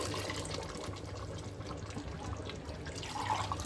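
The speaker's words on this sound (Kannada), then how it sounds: "ಇವಾಗ ಎರಡು ಹಾಲು ಹಾಕೊಳ್ತಾ ಇದ್ದೀನಿ ತೆಂಗಿನಕಾಯಿ ಹಾಲು" Coconut milk poured into a pot for methi chicken biryani, a soft steady liquid splashing and trickling sound at close range, low in level and continuous throughout.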